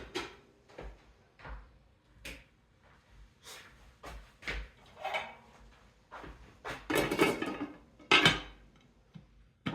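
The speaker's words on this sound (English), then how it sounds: "Now, I'm going to put my lid on." Someone sets a lid onto a pasta cooking pot among scattered kitchen clatter, with sharp metallic knocks and clinks coming in irregular bursts at close range.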